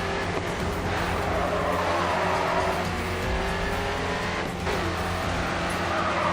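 A white 1970 Ford Mustang with black and red stripes races in the video game GRID 2, its engine droning loudly and steadily throughout, with broad road and tire noise and no breaks or voices.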